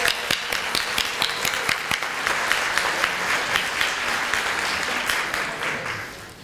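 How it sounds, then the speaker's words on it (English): An audience applauds students at a school showcase, a steady crowd of many hands clapping at close range, dense and sustained with scattered sharper individual claps, continuing evenly before easing slightly at the end. "I'd like to give all the students a round of applause"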